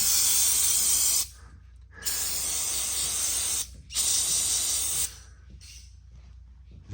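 Brake cleaner sprays onto the engine block of an abandoned 1949 Ford 8N tractor in three close, loud hissing bursts with short quiet gaps between them.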